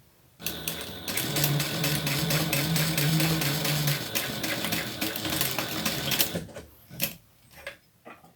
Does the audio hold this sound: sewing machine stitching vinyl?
yes